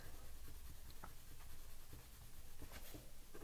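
Colored pencil lightly shading on paper, a soft continuous scratchy rustle with faint strokes, close and quiet.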